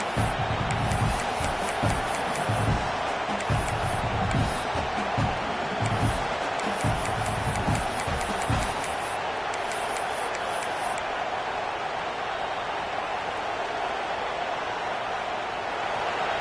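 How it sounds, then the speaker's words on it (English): A big football stadium crowd roars and cheers on a third down, a loud dense wall of noise with rhythmic chant-like bursts for about nine seconds before fading to a steadier hum. "Big third down as the crowd gets behind this defense."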